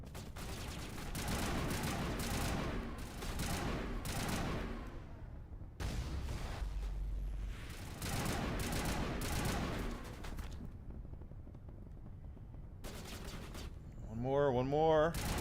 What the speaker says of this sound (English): Actually, it's the assault rifle.